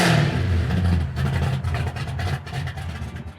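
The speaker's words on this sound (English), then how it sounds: "This is a wicked 1969 Chevy Camaro, big block, 6-speed manual transmission." A 1969 Chevy Camaro with a big block engine and 6-speed manual transmission revs loudly up close, a deep throaty roar that swells early on and then settles into rumbling, uneven pulses.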